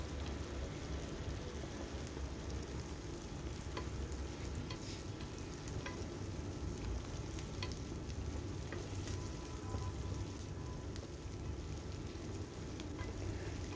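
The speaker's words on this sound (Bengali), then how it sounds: "তারপরে এইদিকে এইগুলো ভালো করে আমি একটুখানি মিনিট 1-2 ধরে এটাকে খুব ভালো করে ভেজে নেব।" Onion, garlic and spices frying in a pan for an egg dish, giving a steady, dense sizzle with occasional stirring scrapes throughout, with no talking.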